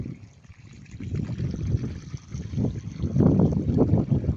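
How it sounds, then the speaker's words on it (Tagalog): Water gushes steadily from an old garden hose outdoors while watering sweet potato plants, a continuous rushing and splashing that swells louder toward the end, with faint movement noises around it. "Ang bilis ng daloy ng tubig."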